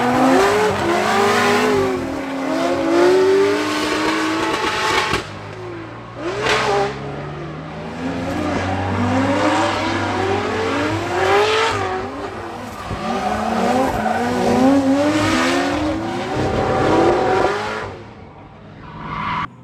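Volvo drift car revving hard and squealing its tyres while drifting in tandem behind another car, loud and close, with engine pitch rising and falling in repeated sweeps and a brief drop-off near the middle.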